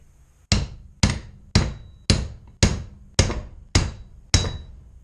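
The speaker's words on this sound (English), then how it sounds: "Now we're going to hit this thing the opposite way to break the rust free." A hammer strikes a rusted suspension bushing on a 1979–95 full-size Chevy/GMC van eight times at an even pace of about one per second, each a sharp, loud metallic bang that dies away quickly.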